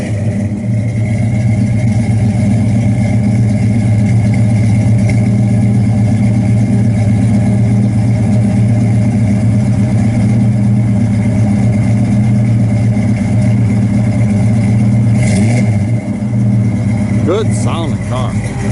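A 1973 Plymouth Duster 340 V8 with dual exhaust idles loudly and steadily with a deep rumble, then is revved briefly near the end, with a voice talking over it.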